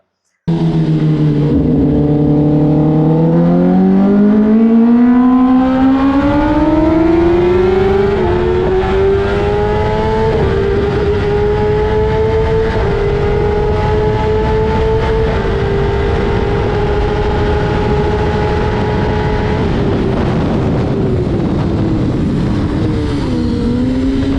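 A Kawasaki ZX-10R superbike running flat out above 300 km/h, its engine note a loud, sustained high-pitched howl that climbs steadily through the gears, with heavy wind rush throughout.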